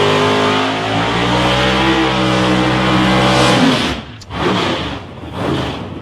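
A Chevy S10 drag race truck with a 565 cubic inch engine roars loudly at a raceway with a strong, steady engine drone, cuts off abruptly near the end, then surges briefly again.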